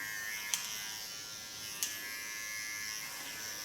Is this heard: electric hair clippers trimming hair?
yes